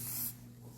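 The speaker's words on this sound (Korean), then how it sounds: "여기까지 스프레이 해주시고," A short, close burst of hairspray hisses onto styled hair, lasting about a third of a second before cutting off into quiet room tone.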